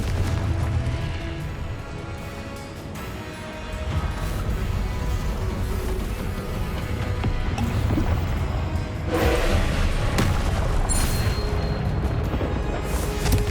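A Confringo fire spell exploding in Hogwarts Legacy, heavy booming blasts and crashing impacts over dense rumbling game noise, loudest near the middle and end.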